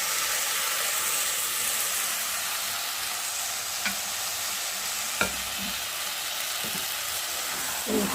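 Daliya and potatoes sautéing with spices in a pan, a steady broad sizzle running throughout with a few soft clinks of stirring, no voices.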